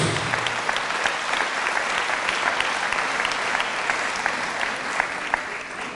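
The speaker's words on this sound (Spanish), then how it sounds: "Fuertes aplausos a Jesús." A congregation at a Catholic religious service gives a dense, steady round of applause for Jesus, loud and sustained throughout with no voices over it.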